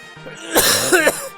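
A single close, forceful cough, rough and breathy, followed by a second shorter burst.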